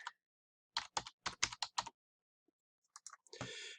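An answer is typed on a computer keyboard in a quiet room: a quick burst of about eight close key clicks, a pause, then a few more taps and a longer clattering run.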